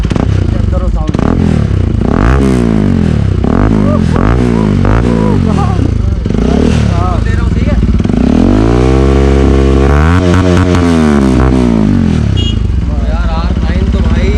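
An RS 200 motorcycle with an aftermarket exhaust is revved repeatedly. Loud, close engine blips rise and fall in pitch, then a longer, sustained rev climbs and drops, with some clatter and a voice mixed in.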